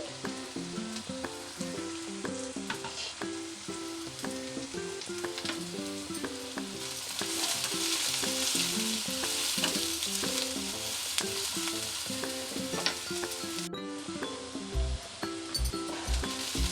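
Oil sizzles and crackles steadily in a pan as ingredients fry for a potato filling for aloo bread bajji, with occasional clinks of a stirring spoon against the pan, close and continuous.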